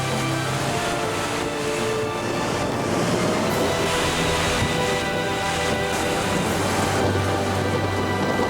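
Heavy hurricane rain pours down in a dense, unbroken roar as the backside of the storm strikes Galveston, with deep rumbling underneath and a steady, loud wash throughout and no pauses.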